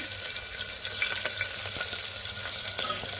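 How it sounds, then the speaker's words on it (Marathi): Mustard seeds, cumin, crushed garlic and slit green chilies crackle and sizzle in hot oil, a steady close frying hiss with small pops scattered throughout, no voices. "तर तेल छान गरम झालं यामध्ये ना पाव चमचा आपल्याला राई घालून घ्यायची म्हणजे मोहरी यामध्ये पाव चमचा जिरं"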